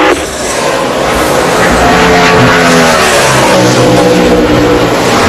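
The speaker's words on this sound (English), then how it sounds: "The 5 of Mark Martin has left pit road" A NASCAR stock car at the Brickyard pulls away down pit road, its engine revving loud and near with a rising, wavering roar that swells after a brief dip at the start and then stays strong.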